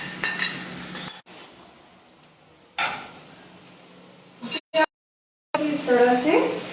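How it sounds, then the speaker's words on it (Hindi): A healthy salad tossed in a bowl with utensils, giving light clinks and scraping stirs in short bursts separated by silent gaps, while someone talks over much of it. "अभी थोड़ा मैं जल्दी इसमें मिक्स कर रही हूँ, ये देखिए।"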